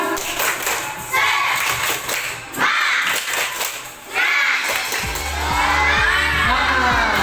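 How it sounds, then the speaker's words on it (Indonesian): A group claps and shouts a "tepuk semangat" chant together in a lively, patterned rhythm, loud and close, the clapping and voices rising and falling in bursts. "Tepuk semangat."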